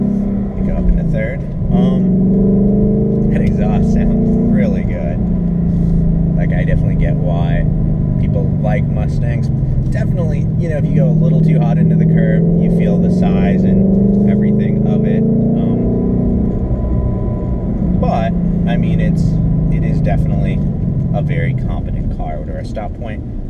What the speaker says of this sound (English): That exhaust sounds really good.